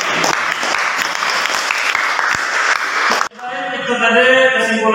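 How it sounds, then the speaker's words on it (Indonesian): A classroom audience applauding loudly and steadily for about three seconds before the clapping cuts off and lighter clapping and voices follow. "mari kita berikan aplaus yang meriah"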